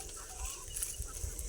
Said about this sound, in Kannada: ನೋಡಿ ಅದರ ಜೊತೆ ನನ್ನ ಕೋಳಿಗಳು